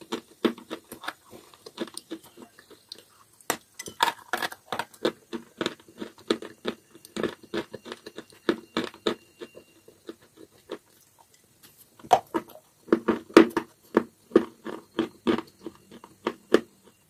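Wet chalk being bitten and chewed close up, with crisp, sharp crunches in quick irregular bursts, a short pause, then another run of crunching, and no talk.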